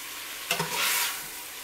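Peppers and pork ribs sizzle in a hot pan with a quick stirring scrape, a brief hissing fry that swells for a moment and then settles back into a soft steady sizzle.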